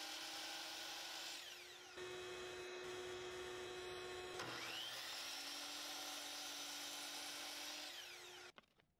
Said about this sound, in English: I set up to drill pocket holes in the rails and stiles as needed for assembly.